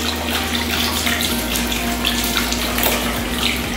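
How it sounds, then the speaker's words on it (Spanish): Hands being rinsed under a strong stream of running tap water after handwashing, a continuous close splashing hiss with a low steady hum beneath it, no talking. "procedemos a un enjuague con mucha agua"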